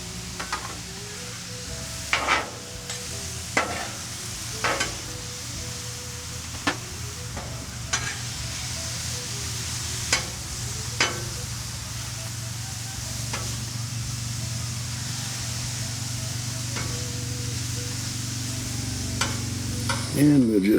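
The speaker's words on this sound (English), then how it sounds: "And we'll just stir it around, mixing all that flavor in there." Steak seasoned with taco fajita seasoning and salt, pepper and garlic seasoning sizzling on a Blackstone griddle, a steady hiss with regular spatula scrapes and taps as it is stirred around, no voices.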